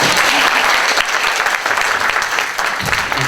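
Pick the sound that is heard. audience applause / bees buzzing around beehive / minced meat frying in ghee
audience applause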